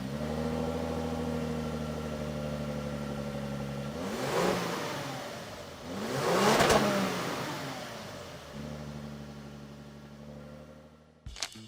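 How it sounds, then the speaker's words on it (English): Lexus LS, including a 2014 LS F Sport, with its engine running and revving: a smooth low idle hum broken by two rising rev swells in the middle, then settling back to idle before a brief clunk at the end. "let's hear the sounds when you fire it up"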